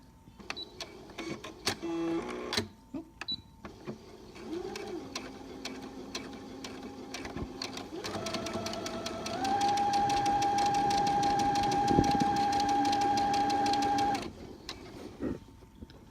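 A sewing machine stitching the hem of a rag rug, starting and stopping in short runs before a steady, louder whirring stretch of continuous stitching, then slowing to a halt.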